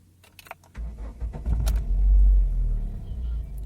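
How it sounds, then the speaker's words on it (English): Keys jingle and click in the ignition, then a car engine cranks and catches, swelling into a deep, loud rumble before settling to a steady idle up close. "I'm going to start the vehicle right now."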